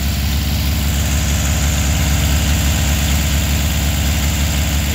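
A 1969 VW Beetle engine idles steadily and evenly while warming up, a low rhythmic chugging rumble that stays constant throughout with no other sounds.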